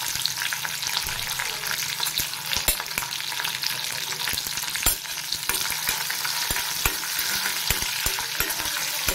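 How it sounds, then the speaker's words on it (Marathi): Mustard seeds, cumin, curry leaves, garlic and three large green chillies sizzle steadily in hot oil as a tempering for a green bean bhaji, with a spoon scraping and stirring through the crackling at close range and no voices. "आता हे सगळं आपण चांगलं फोडणी हलवून घेऊया।"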